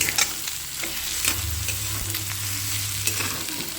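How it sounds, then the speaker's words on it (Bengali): Egg frying with vegetables in a wok, a continuous close sizzle with slow stirring and occasional spatula taps against the metal. "এইভাবে খুব ভালোভাবে ডিমটা দিয়ে মিশিয়ে ভালো করে কিন্তু ধীরে ধীরে করে ভেজে নেব"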